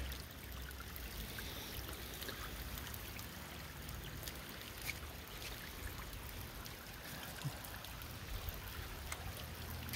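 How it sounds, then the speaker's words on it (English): Water trickles and splashes steadily nearby as it seeps through a rock retaining wall, a constant gurgling flow with small drips, fairly quiet and without voices. "There's a lot of water coming through this."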